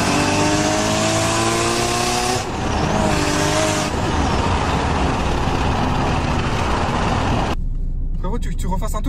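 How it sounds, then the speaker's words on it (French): A tuned stage 3 Peugeot 208 GTI of about 500 hp revs hard and accelerates, its engine note climbing through gears loudly and close by, with a shift break midway and a sudden cut near the end; voices are faintly present. "tu lui fais entendre le bruit du moteur"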